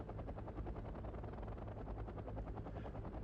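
A gunship helicopter in the Wargame strategy game gives off a steady, rhythmic rotor thump with a whining engine drone, fairly faint and continuous, with no talking.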